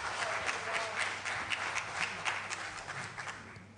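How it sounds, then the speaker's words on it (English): An audience claps for a choir conductor at a symposium, with scattered hand claps building into moderate applause that stays steady and fairly close, plus faint low hum behind it. "let's give a huge round of applause to Maestro Mondem Dingi"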